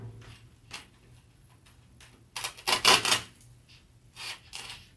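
Snips and clicks of shears cutting floral stems shorter for a pink glitter heart Valentine's arrangement: a few sharp, close cuts, one louder cluster in the middle, over a quiet background.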